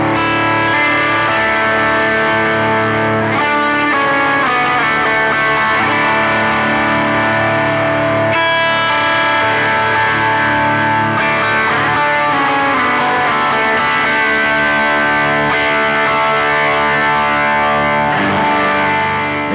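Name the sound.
electric guitar boosted lead tone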